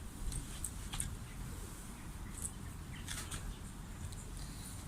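Pigeons flap their wings as they land outdoors in bad weather: a few brief, soft fluttering bursts near the start and middle over a constant rumbling background of wind-like noise.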